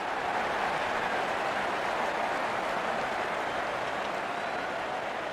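Stadium crowd at an IPL cricket match, Punjab Kings versus Mumbai Indians, applauding a batsman's fifty: a dense, continuous roar of clapping and cheering, steady throughout.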